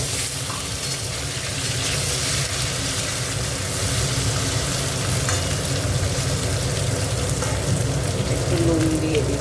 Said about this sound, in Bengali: পেঁয়াজটা একটু ভাজা ভাজা হোক, টমেটোটা দিয়ে দিল।